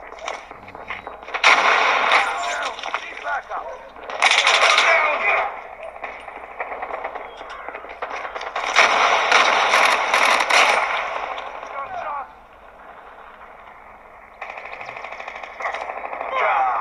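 A mobile shooter game played on a Samsung Galaxy Note 20 Ultra produces loud bursts of rapid gunfire, several seconds each, separated by quieter stretches of mechanical reloading clatter and rattling.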